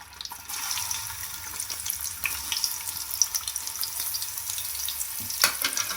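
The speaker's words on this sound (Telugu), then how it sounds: "దీని గోల్డెన్ కలర్ వచ్చే వరకు ఫ్రై చేసుకున్నాం." Chopped onions fry in hot ghee in a wok-style pan, giving a continuous close sizzle with light stirring scrapes and occasional sharper crackles, no voices.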